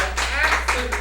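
A short burst of audience applause, dense and close, with a voice mixed in and a low steady hum beneath.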